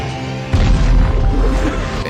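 A loud explosive boom from a black powder arrow striking a creature in a fantasy battle film, erupting abruptly and rumbling on at full strength.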